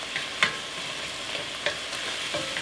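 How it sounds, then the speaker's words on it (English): Chopped onions fry in a pan with a steady broadband sizzle, broken by a few sharp scraping stirs of a utensil against the pan, close and moderately loud, with no talking. "we're gonna add some onions and we're gonna pan fry those just a little bit"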